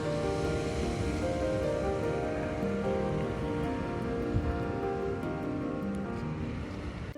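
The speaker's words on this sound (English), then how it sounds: "I could spend all night stood here listening to the waves." Steady ocean surf at a coastal stopover near Vinaròs, Spain, a continuous broad wash of breaking waves, close and fairly loud, with no voices.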